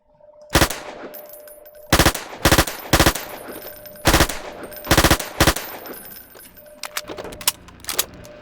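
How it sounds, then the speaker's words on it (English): Automatic gunfire from a weapon in the video game Hunt Down the Freeman, fired in several loud short bursts of sharp cracks separated by pauses, with a faint high hum beneath. "I like how the firing sound cuts off for the last round in the mag."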